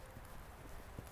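A horse walks in a riding arena with soft, muffled hoof clops on the footing, quiet and close.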